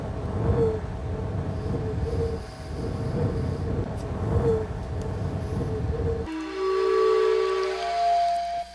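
A whimsical train whistle from the video game Myst sounds as a sustained tonal blast in the final seconds, following a stretch of rumbling, rolling rail-like noise.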